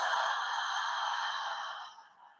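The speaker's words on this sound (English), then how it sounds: "and then open the mouth to exhale." A long, breathy exhale through an open mouth during a yoga breathing exercise, close and steady with a soft airy hiss that fades gradually toward the end.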